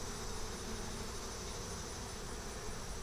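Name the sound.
honeybees buzzing at an open hive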